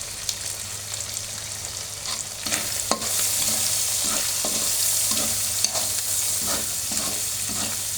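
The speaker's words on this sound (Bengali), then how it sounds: "আরও আমি 2 থেকে 3 মিনিট লাড়বো।" Fried shrimp and vegetables seasoned with Maggi masala are stirred in a pan, giving a steady sizzle with repeated scraping strokes of the spatula that grow busier after the first couple of seconds.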